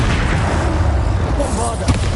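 Confringo fire-blast spell cast in the video game Hogwarts Legacy, a dense continuous roar of booming low rumble and crackling bursts lasting the whole moment, loud and close, with a voice over it.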